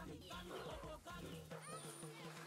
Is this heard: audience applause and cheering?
no